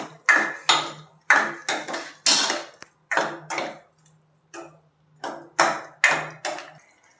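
A metal spoon clinks and scrapes against a pan while mixing chili powder and cumin powder into gunda shaak, a Gujarati vegetable dish, in a series of sharp, close strikes with brief pauses between them.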